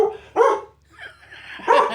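A dog barks a few times in short yips and bow-wows, close and fairly loud, with brief quiet gaps between the barks.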